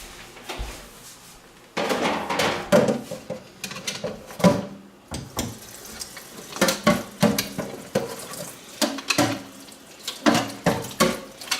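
Cold tap water runs in bursts over sausage casings being rinsed in a kitchen sink for blood sausage, with splashing, handling clatter and short pauses between streams, close by.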